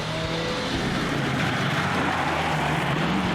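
Ford Falcon XE V8 rally car competing in TARGA Tasmania, engine roaring loud and steady with a rough mechanical drone, close throughout.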